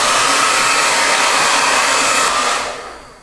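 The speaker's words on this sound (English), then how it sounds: "hold the hair outstretched while I'm blow drying it" A hair dryer blows loudly and steadily on long hair held outstretched, a close, constant roaring hiss that holds for nearly three seconds before the airflow moves away and tapers off, with no talking.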